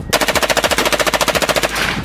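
An M4 rifle firing a single fast, loud, close burst of about twenty evenly spaced shots, ending in a short fading echo.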